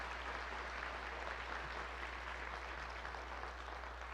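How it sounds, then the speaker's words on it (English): Steady applause from a graduation audience fills the whole stretch, dense and even, with no voices standing out above it. "let's give them another round of applause"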